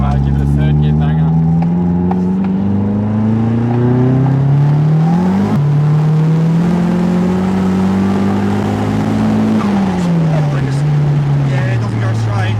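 A 300 hp Toyota Starlet with blown shock absorbers revs hard in third gear, the engine note climbing steadily, dipping briefly at a shift, then climbing again and falling away, loud and close throughout.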